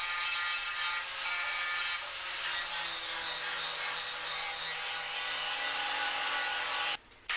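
A wire wheel on a grinder strips paint from a metal panel on a Talbot Express camper van, giving a loud, steady, gritty abrasive whir that runs almost unbroken and cuts off briefly near the end.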